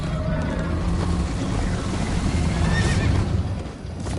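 A horse in the video game Minecraft: Story Mode whinnies loudly over a rumbling backdrop of hoofbeats and movement, its neigh rising and falling near the end.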